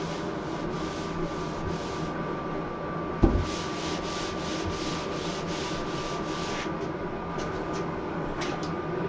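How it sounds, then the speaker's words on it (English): Steady rasping scrape of sanding drywall dust off a bathroom wall under construction, a continuous rubbing sweep with rhythmic strokes, close and moderately loud, with one sharp knock partway through. "Get all this drywall dust off the wall so the paint will stick good"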